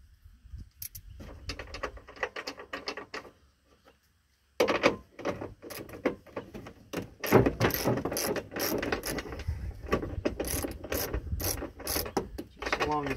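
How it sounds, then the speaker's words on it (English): A hand ratchet loosens two nuts on each side of a chuckwagon door assembly, giving bursts of quick close clicking strokes, a brief pause, then longer runs of rapid ratcheting clicks with metallic knocks, no talking. "we're going to grab our ratchet, and there's two nuts on each side here, and we're going to loosen that assembly."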